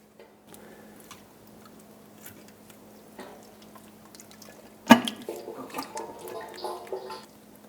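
Oil pours from the rear axle of a 1978-1987 Chevrolet El Camino as the differential cover is pried loose with a pry bar and hammer: quiet faint clinks, then a sudden sharp pop and a splattering, dripping flow.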